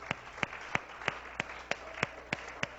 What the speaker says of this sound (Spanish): recibe los aplausos